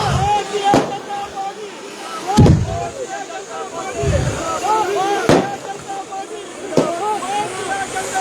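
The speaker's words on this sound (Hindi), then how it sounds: "पटाखों की बारिश देख सकते हैं आप।" Firecrackers pop in sharp, separate bangs every second or two outside a BJP office during a victory celebration in Kashmir, against a dense crackle and chatter of a crowd.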